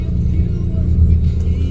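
Car engine pulling away and gaining speed, a steady low rumble with road and cabin noise, heard from inside the car after a windy spell by a pier.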